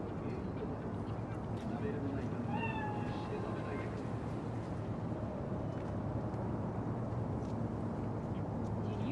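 Cat in a city street in the game Cyberpunk 2077, meowing a few soft times over a steady low ambient rumble of traffic and machinery, faint and somewhat distant.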